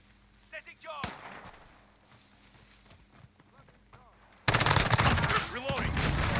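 Rapid automatic gunfire erupts loud and dense near the end of a Modern Warfare (2019) gunfight match, where an MP7 and a 725 shotgun are in play, after quieter footsteps, scattered effects and game voice chatter.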